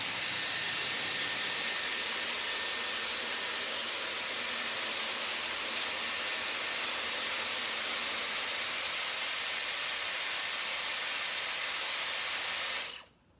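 A Dyson Airwrap hair styler with a 30mm curling barrel blows air in a steady, loud, close hiss that runs unbroken for several seconds and then cuts off abruptly at the end.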